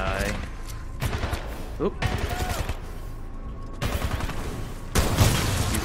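Gunfire in the first-person shooter game Titanfall 2, with repeated bursts of shots and impacts amid game effects, moderately loud, and a player's brief exclamation over it.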